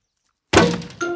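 A ball strikes a glass greenhouse in a cartoon, making a sudden sharp clang after silence, followed by a second ringing knock with a glassy, bell-like tone.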